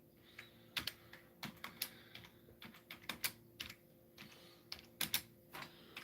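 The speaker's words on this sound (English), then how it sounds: "now I'm typing" Rapid typing on a computer keyboard, irregular bursts of sharp clicks and clacks close up, over a faint steady hum with no talking.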